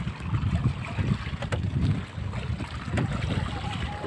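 A fishing boat's motor drones steadily on open sea while out after squid and fish, with wind buffeting the microphone and water rushing past the hull, continuous and fairly loud with no talk.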